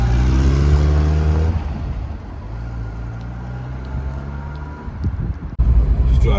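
A Bedford Chevette van, a small car-derived estate van, on a test drive: low engine drone that eases off after a gear change, then steady road and wind noise, with a sharp bump and renewed pull near the end.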